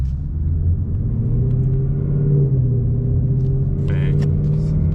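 A 2020 Mustang GT V8 on a 91-octane tune climbs slowly through the revs in third gear, a steady, loud engine drone and rumble rising gradually, with cabin noise throughout.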